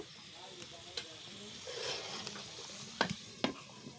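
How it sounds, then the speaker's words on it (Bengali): Potatoes sautéed and stirred in a pan for a home-style koi fish curry with tomato, with a soft steady sizzle broken by a few sharp spoon scrapes and clinks against the pan. "আলুটা কষিয়ে নেব।"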